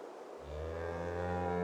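A bull or cow lowing close by on a farm, one long deep sustained moo that starts abruptly and swells in loudness, heard alone without talk.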